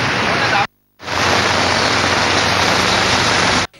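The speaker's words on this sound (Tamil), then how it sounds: "மழையை அடுத்து கண்டி போலீஸ் நிலையத்துக்கு அருகிலுள்ள வீதி நீரில் மூழ்கிய காட்சிகளே இவை." Floodwater rushes over a submerged road near a police station in Kandy after heavy rain, a loud steady roar of churning water broken by one short gap of silence.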